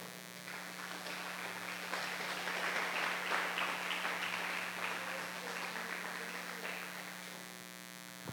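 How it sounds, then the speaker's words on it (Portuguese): Congregation applauding during a church service, a broad continuous wash of clapping that swells in the middle and tapers off, heard at moderate distance over a steady electrical mains hum. "desocupa as mãos e aplauda os céus."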